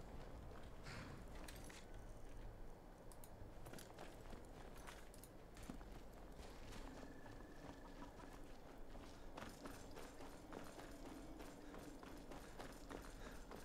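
A small horse's hooves clip-clop faintly and steadily in Skyrim Anniversary Edition, a quiet, even rhythm under distant ambient game sound.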